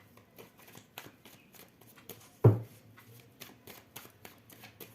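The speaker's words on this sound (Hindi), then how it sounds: "चलिए एक कार्ड्स ले लेते हैं यहाँ पर।" Tarot cards riffle and flutter in a steady run of close, crisp shuffling taps, broken by one louder slap or thump near the middle.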